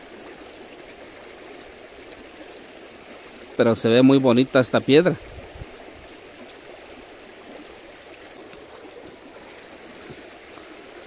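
A small stream running over stones, a soft continuous watery rush heard faintly and close throughout, briefly masked by a person speaking in the middle.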